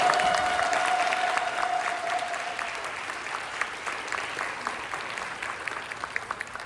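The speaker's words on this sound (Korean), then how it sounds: "우리 박수하겠습니다" Warm audience applause at a church Christmas evening program, strong at first and thinning gradually into scattered claps, with a faint sustained tone early on.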